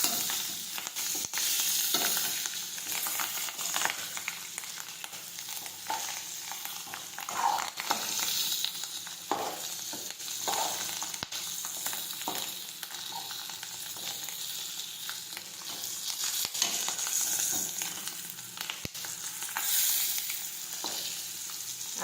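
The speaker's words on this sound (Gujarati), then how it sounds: "મરચાં છે તે આ રીતે તળાઈ જાય ત્યાં સુધી આપણે તળાવવા દેવાના છે" Stuffed green chillies fry in hot oil with mustard seeds and cumin for marchani kadhi, giving a continuous crackling sizzle with occasional stirring scrapes, close up and with no talking.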